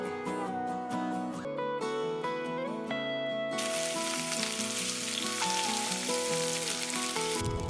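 Round potatoes frying in a little oil in a small pan, a dense continuous sizzle that jumps sharply louder midway as the potatoes hit the hot oil, with faint musical tones underneath.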